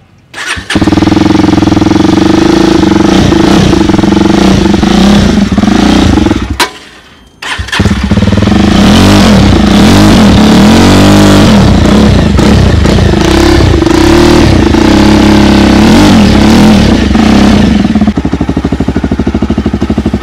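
A Jawa 42 Bobber motorcycle with the filters removed from its silencer starts up loudly close by, dies once, restarts, and settles into a thumping idle broken by several sharp revs.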